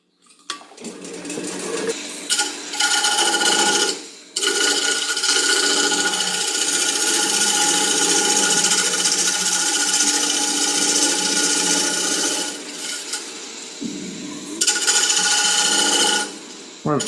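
Close, steady rasping and whirring as a tool cuts a chamfer on the edge of an offset wooden bowl with inlays spinning on a lathe, a continuous scraping hiss broken by brief pauses.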